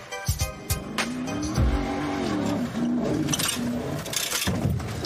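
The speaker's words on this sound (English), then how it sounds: "put your foot to the floor and see what kind of reaction you get out of the truck itself" A custom Baja truck launched at full throttle, its engine revving hard with rising and falling pitch, tire squeal and gravelly crunch, loud and close with no talk.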